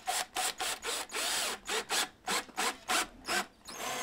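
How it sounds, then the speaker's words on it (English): A self-tapping screw is driven into a metal door armor shield. It sounds as a run of short, evenly spaced grinding bursts separated by brief pauses, close and moderately loud. "And remember, it's a self-tapping screw,"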